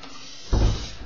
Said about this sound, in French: Ferme la porte aussi.